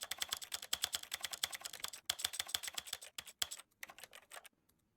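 Computer keyboard arrow keys are tapped in rapid, fairly even succession while playing The Stanley Parable, crisp close clicks that slow and thin out toward the end before stopping.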